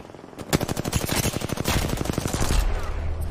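Enemy automatic gunfire in a battle royale shooter: a loud, rapid, steady burst of shots lasting about two seconds, close by, followed by lingering rumble.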